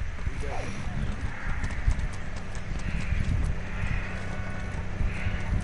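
Rhythmic hoofbeats of a galloping horse in the video game Far Cry 6 clatter along steadily, with a voice talking over them and a brief higher whinny-like sound early on.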